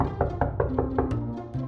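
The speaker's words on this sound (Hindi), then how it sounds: "सनी, दरवाजा खोल।" Knuckles rap on a door in a quick, even series of about six close, hollow knocks, followed by a few low thuds, with no voices.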